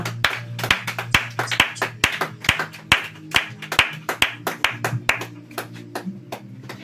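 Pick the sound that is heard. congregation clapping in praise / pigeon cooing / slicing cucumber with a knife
congregation clapping in praise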